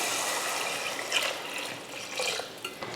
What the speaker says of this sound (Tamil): தண்ணி ஊற்றிடுவோம்.